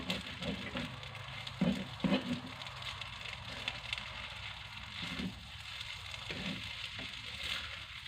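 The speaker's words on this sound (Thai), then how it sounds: "ก็จะผัดไปเรื่อยๆจนข้าว มีความ แห้งขึ้นมาระดับหนึ่งนะคะ" Soft, continuous sizzling as rice with Chinese sausage is stir-fried in a wok over low heat, broken by occasional scraping stirs at an unhurried pace. Quiet and close, with no talking.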